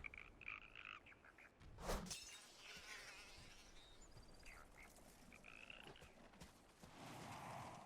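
Frogs croak in a Dragonflight World of Warcraft zone, a quiet ambient chorus of repeated croaks and insect-like chirps with occasional sharper clicks, no talk.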